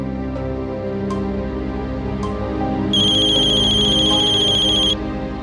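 A phone rings in a Gujarati household drama scene: a steady electronic tone sounds for about two seconds in the latter half, over a quiet room with a few faint clicks.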